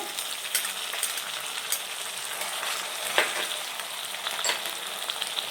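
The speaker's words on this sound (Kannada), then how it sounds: "ನಾನು ರೆಡ್ ಚಿಲ್ಲಿ ಸಾಸ್ ಹಾಕ್ಕೊಳ್ತಾ ಇದ್ದೀನಿ" Baby corn and capsicum fry in a pan with red chilli sauce, making a continuous bright sizzle close by, with light stirring scrapes and occasional clinks throughout.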